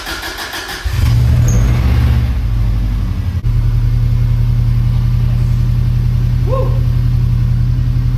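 A 1998 Subaru STI engine cranks briefly and catches, then settles into a steady, loud idle close by. A single short exclamation rises over the running engine.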